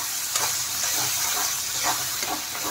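Spice paste fries in hot oil with a loud, continuous sizzle and hiss close by, broken by soft scraping strokes as it is stirred.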